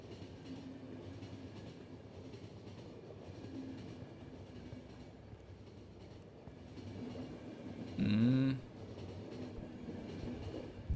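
A train rolls steadily in the video game The Final Station, with a continuous low rumble and rhythmic clatter, and a brief loud tonal screech or whistle rising partway through.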